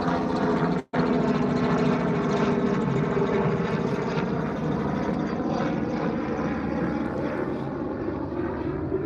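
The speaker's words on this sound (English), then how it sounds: "Helicopter." A helicopter drones steadily overhead, its loud, broad engine and rotor noise filling the whole stretch with only a brief dropout early on.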